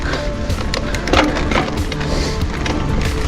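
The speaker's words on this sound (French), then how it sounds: "combien supporteraient ce bruit de transmission là avant de jeter le vélo" Noisy mountain bike drivetrain grinding and clicking steadily on an outdoor trail ride, with woody creaks and rattles running continuously, fairly loud and close, no talking.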